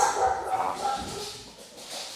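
Dogs bark and yip briefly in the background of a room while a person talks over them.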